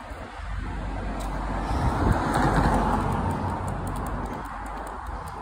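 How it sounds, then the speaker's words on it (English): A car passes along a town high street in Lowestoft, a steady broad road rumble that swells to its loudest near the middle and then eases, with light outdoor ambience and no talking. "Car's still going down there, even though it says road's closed."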